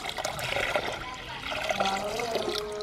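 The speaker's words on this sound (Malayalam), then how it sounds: "ഒരു ബക്കറ്റ് വെള്ളമാണ് ഇപ്പോൾ ആഡ് ചെയ്തിട്ടുള്ളത്" A bucket of water is poured into a small fish pond built from a trolley bag, making a steady, close gushing and splashing rush that continues for about three seconds.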